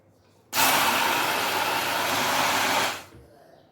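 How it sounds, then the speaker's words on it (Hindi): A blender whirs on abruptly, churning raw mango with black salt, cumin and a little water into a sherbet. The motor drones loud and even for about two and a half seconds, then cuts off and spins down. "अब आप इसको ब्लेंड करें।"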